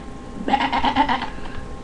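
A voice imitates a zombie sheep with one drawn-out, wavering bleat close to the mic. It lasts a little under a second, with brief silence on either side.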